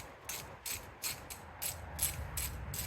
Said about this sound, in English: We're going to remove the first 5 bolts, okay?